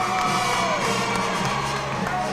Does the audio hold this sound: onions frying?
no